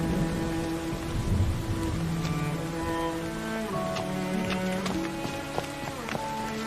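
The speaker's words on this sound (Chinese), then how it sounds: "下雨了" Steady rain pours down in a TV drama scene, a dense continuous hiss of drops with faint musical score tones running underneath and no talking.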